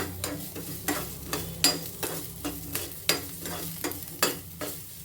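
Spices fry in a pan for a hotel-style paya (trotter) soup while a spoon stirs them in quick, regular scraping strokes over a constant close sizzle.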